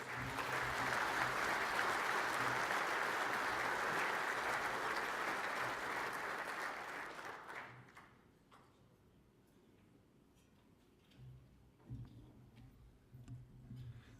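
Audience at a lecture at the RACV Club giving a big round of applause, loud and sustained for about seven seconds, then fading into a quiet room with scattered small knocks and rustles.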